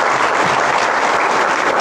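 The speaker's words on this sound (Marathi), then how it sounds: "खरंच या समितीचं सुद्धा एकदा टाळ्या वाजवून आपण स्वागत करूया" Audience at a Dhammachakra Pravartan Day gathering applauds to welcome the committee, a dense, loud, steady burst of clapping from a crowd with no voices over it.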